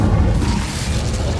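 A loud, dense whooshing burst of the Incendio fire spell cast in Hogwarts Legacy, a sustained roaring blast with low rumble throughout.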